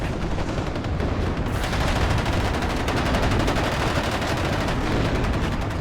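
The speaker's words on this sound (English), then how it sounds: "A-10 also coming in there. You could hear it briefly as the rounds landed." An A-10's gun rounds land in a WARNO battle as a continuous roar of heavy, overlapping impacts and fire, loud and steady, with a dense crackle that swells after the first second and holds.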